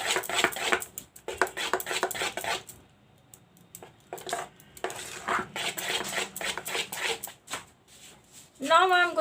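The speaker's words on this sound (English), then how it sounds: "Mix this well." Cake batter being mixed with a spoon in a bowl after a capful of essence is added, giving repeated scraping and clinking strokes in bursts, with a voice talking briefly near the end.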